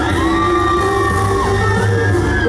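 Loud party crowd at a quinceañera cheering, whooping and yelling continuously over music, with shrill high voices and dense hall noise throughout.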